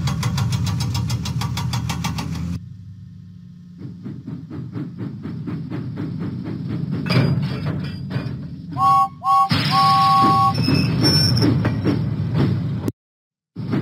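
A cartoon steam engine chugs in a Thomas and Friends children's video game, with a steady rhythmic puffing engine loop, a short whistle tone partway through and game music, ending in abrupt silence.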